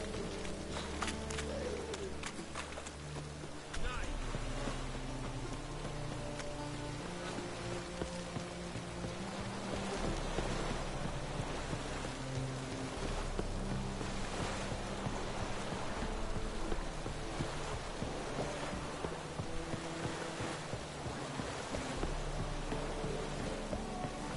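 Steady rain falls in the video game The Witcher 3, a continuous hiss of drops on surfaces running throughout, with game music and occasional footsteps mixed in.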